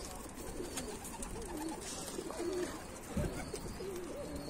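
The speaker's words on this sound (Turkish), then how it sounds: "Bayağı bir kuş kalktı çünkü orada." Pigeons cooing in a steady low warble around a rural lofting area, with a brief flutter-like burst near the end, fairly close and continuous over background ambience.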